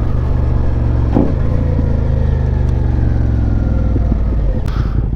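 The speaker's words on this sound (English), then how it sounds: "give him a little rev." A Suzuki SV650 motorcycle revving, with the engine note climbing and falling in a couple of throttle blips over a steady close idle rumble, loud and without speech.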